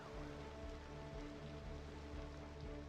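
Steady rain falling in the city-building game Cities Skylines 2, an even wash of patter on surfaces that holds for the whole stretch with a low tonal hum underneath, no voices.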